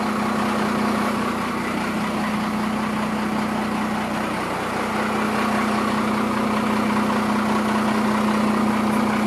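First-generation Dodge 12-valve diesel pickup, a 5-speed 4x4 flatbed, idling with a steady, unbroken low drone and a constant mechanical hum, heard close and alone.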